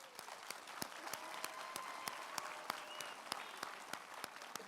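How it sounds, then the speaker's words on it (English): Audience applause for teachers at a 2015 high school graduation ceremony, a steady wash of many hands with sharp individual claps standing out, sustained and fairly distant, with no talk over it. "So I think the teachers deserve another round of applause."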